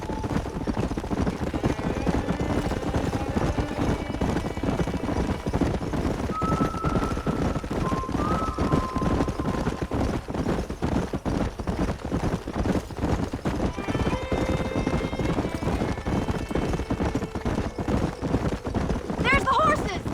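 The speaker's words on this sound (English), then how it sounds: "There's the horses!" Horses gallop and whinny in the Red Dead Redemption western video game, with a steady rhythm of hoofbeats and occasional neighs. Voices talk over the hoofbeats throughout.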